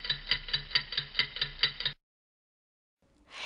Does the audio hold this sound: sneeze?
no